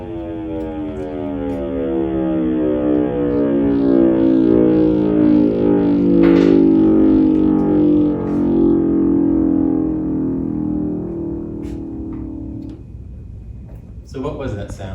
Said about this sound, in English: that was the sound of the Big Bang.